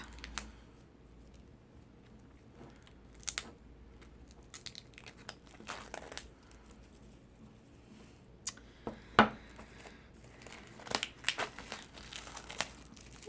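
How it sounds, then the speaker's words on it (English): Plastic wrap peeled and torn off a Halloween Tarot card deck, close and quiet: scattered crinkles and sharp rustling crackles in irregular bursts, busier toward the end, with no talking. "So let's open this plastic up."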